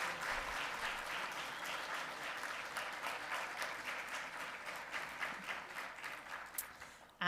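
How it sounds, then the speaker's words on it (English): Sustained audience applause at a live civics bee competition event, a steady wash of many hands clapping from start to finish at moderate level, with no speech over it. "let's give them a big round of applause"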